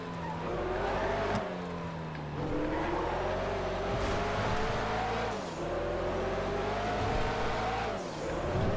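A race car in GTA 5 drives an uphill track of tight corners, engine droning steadily and rising in pitch through repeated gear shifts, with tire squeal on the turns.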